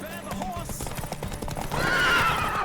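Horses in The Witcher 3 whinny loudly and gallop off at a race start, a rapid clip-clop of hooves beneath repeated neighs that rise into a long, shrill whinny near the end.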